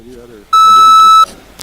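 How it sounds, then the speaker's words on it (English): One sustained, loud electronic beep tone lasting under a second, with faint talk before and after it. "I hear it's beeping"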